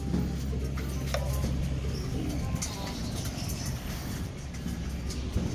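Pigeons coo softly while pecking at scattered pigeon feed, their low murmuring calls repeating over a constant wash of outdoor traffic noise.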